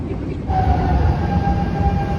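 A Lisbon metro train runs with a steady low rumble and a sustained whine rising after a brief quieter start, loud and close throughout.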